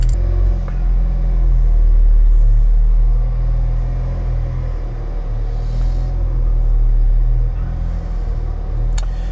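Alfa Romeo 4C TBi Spider with TCT gearbox giving a deep, steady exhaust rumble that swells slightly and eases, heard up close and fairly loud with no talking.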